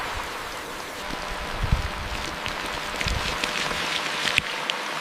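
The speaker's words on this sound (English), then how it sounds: "The raindrops they had yearned for so much begin to fall." Steady rain falls on an open wild landscape, a continuous fine patter of drops with scattered sharper splashes into forming puddles, alone with no voices.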